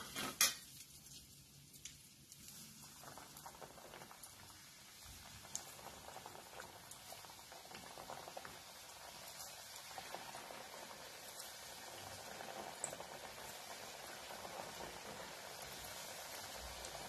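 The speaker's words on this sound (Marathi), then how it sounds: "चांगल्या ब्राऊन कलरवर तळून घ्यायचं आहे आपल्याला." Khari petha frying in oil over a medium gas flame, a faint continuous sizzle and bubbling with occasional light clinks of a utensil against the pan.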